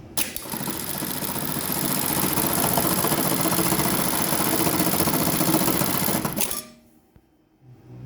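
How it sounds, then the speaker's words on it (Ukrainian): Juki 1900 automatic bartacking machine sewing a ventilation eyelet for caps with cotton thread, a loud rapid continuous stitching whir running for about six seconds, then stopping abruptly into near silence. "закрепочна машина Juki 1900, автоматична закрепка"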